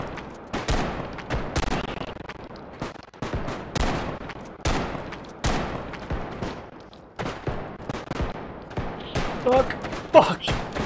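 Gunfire in a team deathmatch match of the shooter Bodycam on the Airsoft House map: loud, close bursts of rapid shots and single cracks, repeating in waves with short gaps between volleys.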